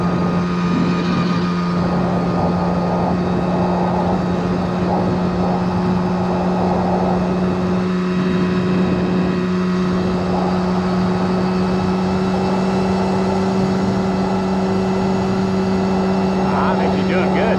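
Small single-cylinder engine of a 1979 Honda Express moped held at wide open throttle while riding at roughly 18 to 20 mph, a steady droning hum with constant pitch and road noise throughout.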